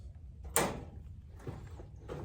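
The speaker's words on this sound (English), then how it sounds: "when you push it in, this door raises up" A spring-loaded farm trap for nuisance animals has its door raised, giving a short sharp mechanical clack with a brief scrape, followed by fainter rattles of the mechanism.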